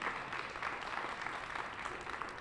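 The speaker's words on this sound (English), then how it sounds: "Give yourselves another round of applause" Faint, fairly distant applause from a gathered audience at a city fund closeout celebration, a soft continuous patter of clapping with no clear peaks.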